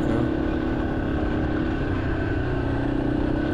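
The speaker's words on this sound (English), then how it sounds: "rolling down the road on your dirt bike" Yamaha XT-250 dirt bike rolling down a dirt road, a constant close engine drone with steady wind rush and no pauses.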